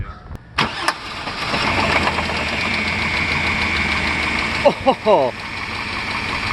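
A Chevy Blazer with a swapped-in LS V8 cranks and catches, then idles steadily at close range before a few sharp revs near the end, with a brief exclamation and people talking nearby.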